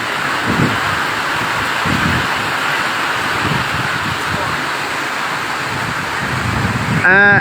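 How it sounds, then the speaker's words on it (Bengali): Heavy rain falls at night in a steady, loud broadband wash, close and unbroken, with a few low thumps and a brief rustling burst near the end. "হ্যাঁ বৃষ্টি হচ্ছে"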